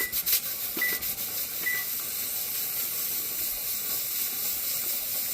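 Steam venting from a pressure canner while canning Swiss chard, a steady loud broadband hiss that holds evenly throughout, with a few faint clicks near the start.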